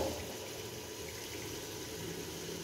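Water poured from a glass into a pan of fried beef koftas with whole green chillies, a steady soft rushing and hissing that runs evenly throughout without any talking.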